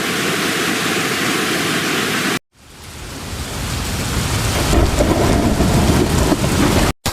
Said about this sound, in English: The potatoes are being washed with water.